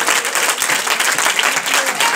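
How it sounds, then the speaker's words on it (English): A church congregation claps hands together in a dense, steady wash of applause, loud and close, filling the space continuously from start to finish. "clap our hands to the Lord"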